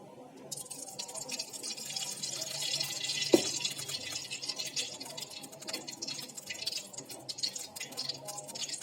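Cooking oil poured into a hot kadai while making egg masala gives a steady close hiss and trickle, with a single sharp click partway through.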